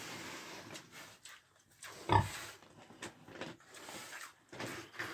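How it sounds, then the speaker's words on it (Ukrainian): Six-and-a-half-month-old pigs grunt and snuffle over a steady barn background, bedded on sawdust, with a louder grunt or knock standing out midway. "Отакі от гарні свині."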